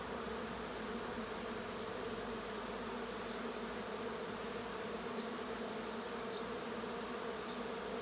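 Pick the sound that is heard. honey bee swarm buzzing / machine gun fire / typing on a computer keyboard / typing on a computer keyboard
honey bee swarm buzzing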